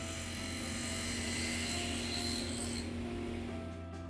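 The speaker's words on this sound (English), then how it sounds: "Here I'm cutting the 4 in the base frame on my homemade jig on the table saw." A table saw cuts spline grooves into a box base frame held on a homemade jig, giving a steady, droning whine with a rasping edge that holds evenly throughout.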